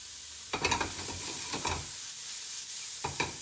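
White onion sizzling softly in oil in a pan, with intermittent stirring scrapes and clatters over a steady faint hiss.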